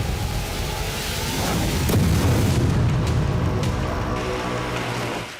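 Heavy explosions from Russian strikes on Ukrainian cities, a continuous loud rumbling roar with deep booming bursts swelling in the middle of the stretch, sustained and dense without voices.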